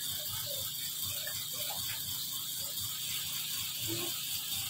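A Dowell stand fan with stiff, dried-up oil struggles to turn, producing a faint scraping, ratcheting mechanical grind with irregular squeaky clicks over a constant hiss.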